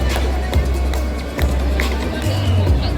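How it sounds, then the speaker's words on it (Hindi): A crowd applauds at the launch of the Honda CB125 Hornet motorcycle, a steady dense clatter of clapping that holds for the whole moment, with voices and a low hum underneath. "everybody please put your hands together"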